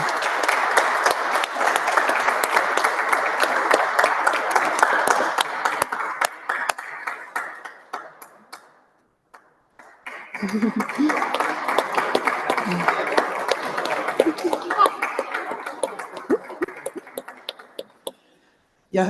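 An audience applauds after a journal is handed over at a conference on election management bodies, a long dense round of clapping that fades to a near-silent gap around the ninth second, then swells again and tapers off.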